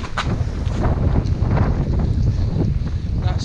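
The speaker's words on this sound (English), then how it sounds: "So we're getting a lot of wind off there, and it's blasting right in my face." Strong wind buffets the microphone on an exposed ridge line, a continuous loud low roar and rumble with gusty surges throughout and no speech.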